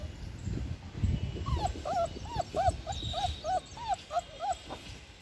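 Long coat German Shepherd puppies whimper and yip in a quick series of about a dozen high, rising cries, fairly faint over low background rustling and handling noise.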